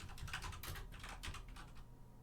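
Fingers tapping on a computer keyboard close by, a quick irregular run of light clicks and clacks, quiet overall and alone with no voices.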